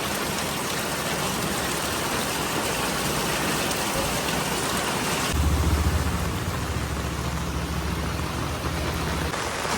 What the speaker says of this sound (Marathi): खूप जास्त पाऊस आहे